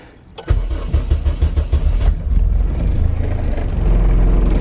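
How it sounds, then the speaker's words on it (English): A K-swapped Honda CRX with a newly fabricated full 3-inch exhaust cranks and fires up, then settles into a steady, fairly subdued idle, close up and with no talking. "So I'm gonna go ahead and turn this on for the first time and see how the exhaust system sounds."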